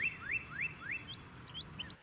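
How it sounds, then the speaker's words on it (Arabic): Northern cardinal singing at dawn or dusk: a series of clear, rising whistled slurs repeated at a steady pace, then a few higher, shorter notes, moderately close over a faint low background hum. "واحدة من أفضل الطرق لتحديد موقع طائر الكاردينال الشمالي هي الاستماع إليه والطائر يغرد في الغالب في بداية النهار وعند حلول الليل"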